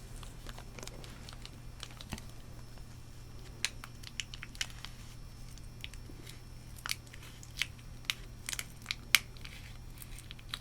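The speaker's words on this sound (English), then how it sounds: "I'm gonna cut this open with some scissors." Sharp, irregular snips and crinkly cuts sound close by, scissors working through the plastic packaging of a Lego set in short bursts against a quiet hum.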